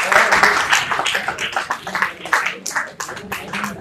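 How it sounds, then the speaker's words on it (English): An audience at a 5G technology talk applauds as a guest is felicitated on stage, a dense burst of many hands clapping that ebbs and swells for several seconds. "Please give a big round of applause for the sir."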